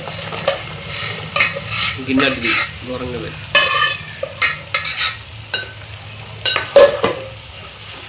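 Chicken fries in oil with ginger-garlic paste for chicken pickle, with repeated spoon scrapes and stirring strokes over a steady sizzle, close and fairly loud, while a person talks.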